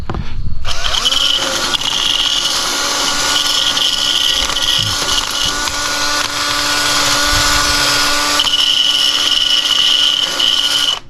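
An angle grinder scours rust off an abused boat trailer, running loud and steady for about ten seconds with a high metallic whine and gritty rasp, starting abruptly and shifting pitch slightly near the end.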